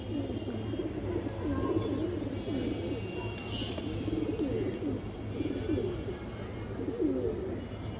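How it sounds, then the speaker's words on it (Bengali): Pigeons in a coop of colored, high-flyer and release-line birds coo in overlapping, rolling low phrases over the full stretch, steady and moderately close, with a faint low hum beneath. "খুব সুন্দর কবুতর"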